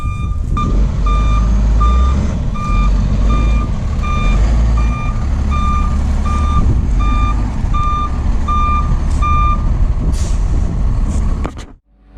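A flatbed tow truck's reversing alarm beeps steadily at regular intervals over a loud, rumbling diesel idle while a car is loaded onto the bed, with the beeping stopping near the end.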